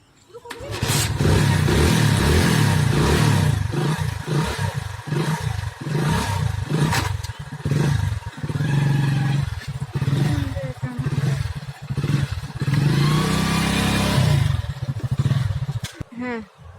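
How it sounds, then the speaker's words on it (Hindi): A motorcycle ridden out toward the market in Daltonganj, its engine running loud and close throughout with rough revving and clatter, while people talk over it. "बाइक निकाले हैं और अपन अभी जा रहे हैं मार्केट।"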